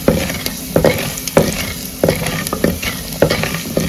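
Tempering spices for Andhra pappu charu sizzle in a pan as they brown, with a steady fry hiss broken by regular, close spoon scrapes and stirs about every half second.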